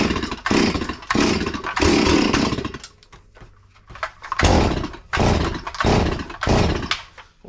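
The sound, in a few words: ported Farmertec MS440 kit chainsaw running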